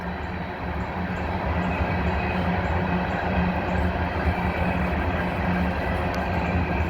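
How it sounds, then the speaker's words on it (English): A southbound SCWX coal train rolls past with a continuous, steady rumble and rattle of wagons that holds at an even level throughout. "I'm thinking that's a SCWX coal train"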